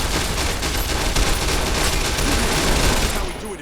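Dense, sustained gunfire erupts in Fallout: New Vegas as rapid overlapping shots fill a continuous, loud barrage for several seconds before cutting off.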